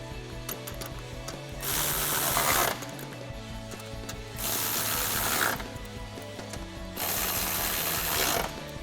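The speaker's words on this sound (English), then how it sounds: "reinstall our 4 10 millimeter screws up top" A hand ratchet drives 10 mm screws back in to secure the grille on a 2011–2016 Ford Super Duty truck, giving three bursts of rapid, close clicking separated by short pauses.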